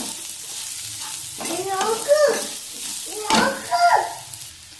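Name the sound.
masala sautéing in pan for tuna roast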